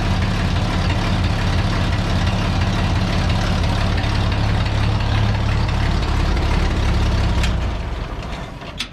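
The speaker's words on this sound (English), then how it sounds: "First I got to put a little air in that tire." Air compressor running steadily while inflating a tire in a rat rod workshop, a loud, continuous motor drone that fades toward the end with a brief click.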